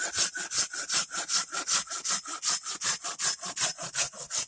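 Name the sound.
sawing off the end of a wooden spoon blank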